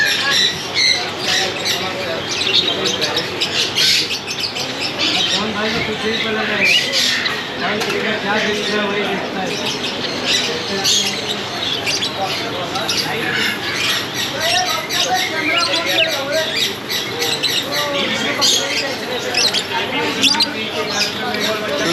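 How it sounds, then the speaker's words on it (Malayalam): A dense chorus of many small caged birds at a Mumbai market squawks and chirps continuously close by, a busy, overlapping chatter with no pauses. "കൊച്ചു കൊച്ചു കിളികളെല്ലാം പലതരം"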